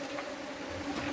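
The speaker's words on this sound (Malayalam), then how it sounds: "തേനീച്ചയുടെ അന്വേഷണം വന്നു" Honeybees buzz around beeswax scraps and cappings left from a honey harvest, giving a brief, fairly faint droning hum with a steady pitch and no voices.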